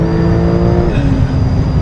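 A Porsche 911 engine drones steadily while the car drives along a road in Romania, a loud continuous hum with road noise and no talking.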